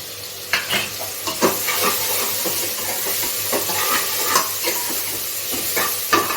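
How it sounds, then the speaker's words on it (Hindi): Onion browns in a pan for a home-cooked masala with a continuous hissing sizzle, punctuated by repeated clicks and scrapes of a spoon stirring against the metal. "प्याज भुनने तक का वेट करते हैं।"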